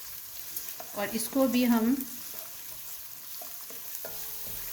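Onion and whole garam masala fry in a pan for bhuni moong dal, a soft sizzle running under a brief spoken phrase early on, then continuing alone with faint stirring scrapes.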